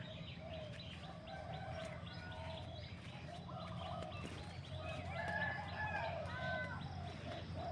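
Chickens cluck and a rooster crows at a distance in the morning, faint over a soft, steady outdoor background around a house garden.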